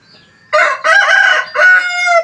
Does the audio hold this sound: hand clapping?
no